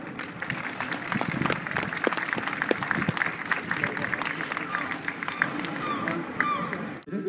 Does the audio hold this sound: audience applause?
yes